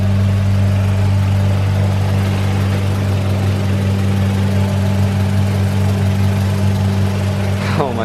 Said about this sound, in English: That rattling sound is the bolt on that bumper.